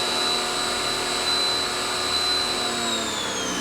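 A steady, loud mechanical whine with a high tonal hum holds constant throughout, a 1900 PSI Ryobi pressure washer motor running with a longer hose attached, with no speech.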